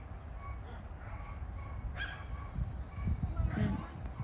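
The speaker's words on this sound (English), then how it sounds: "this dog that's loose and he's making the rest of the dogs bark" Several dogs bark in the distance near a mission church in San Antonio, stirred up by a loose dog, a faint scattered chorus beneath people talking.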